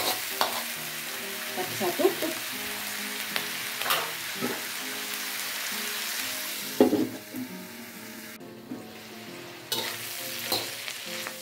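Bitter melon and salted fish stir-fry in a pan with a continuous sizzle under repeated scraping, clattering stirs. The frying quiets briefly near the end before the sizzle returns, and a voice speaks a single word.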